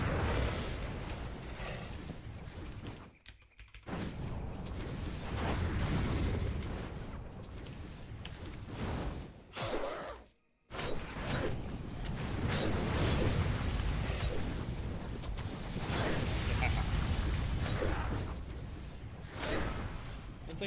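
Repeated orbital cannon strike explosions from World of Warcraft Ascension, loud booming blasts and whooshes packed densely together, with two brief drops to near silence between the volleys.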